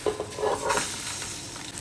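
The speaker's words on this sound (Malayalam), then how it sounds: "അപ്പോൾ ഇതിലോട്ട് നമുക്ക് അരി ഇട്ട് കൊടുക്കാം" Rice tossed into hot oil with fried aromatics for a Thalassery mutton dum biryani, giving a brief steady sizzle with a few stirring scrapes.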